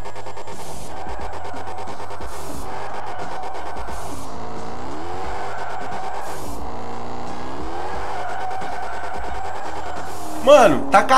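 A square-body VW Gol fitted with a Dodge V8 engine spins its tires, a continuous engine drone and wheelspin roar with pitch sweeps, ending in a sharp squeal burst.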